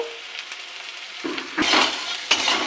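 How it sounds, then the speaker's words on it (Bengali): Chicken pieces with salt and turmeric are stirred in a hot pan. A quiet start gives way to a loud burst of sizzling and scraping, then a second stir. "আর একটু ভেজে নেব"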